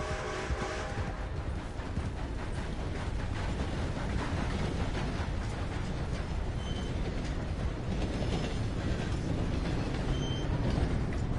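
A train rolls by in Red Dead Redemption 2, a steady loud rumble of wheels and wagons with clanking mechanical texture filling the whole stretch, no talk over it.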